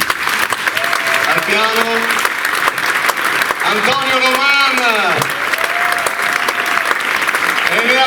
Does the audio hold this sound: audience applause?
yes